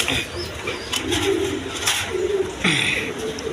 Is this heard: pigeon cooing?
yes